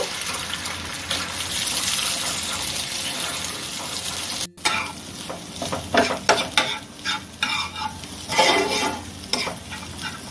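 Egg bhujia is stirred and fried in a pan with a little oil: a close, continuous sizzle broken by repeated scraping strokes, with a short cut-out partway through.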